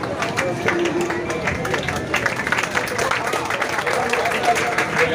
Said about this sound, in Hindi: स्वागत किया जाए तालियों से